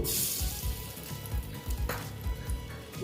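Small fish frying in hot oil give a steady, close sizzle with crackling pops and soft bursts throughout, at low volume, with no voices.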